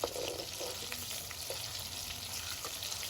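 Loitta fish pakoras frying in a kadai, a soft steady bubbling sizzle with a few faint stirring clinks, quiet and even, no talk.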